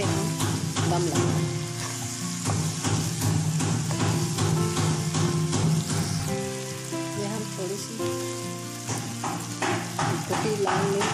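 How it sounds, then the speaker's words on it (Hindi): Okra (bhindi) frying in a pan, a steady loud sizzle with crackling spatter and occasional stirring scrapes running throughout, with a voice speaking over it at times. "थोड़ा सा इनको फ्राई करने के बाद फिर हम दम लगाएंगे।"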